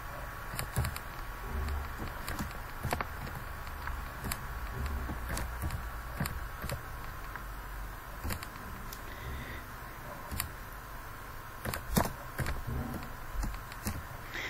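Keys on a computer keyboard click sparsely and irregularly while someone types commands in MATLAB, fairly close, over a steady low background hum.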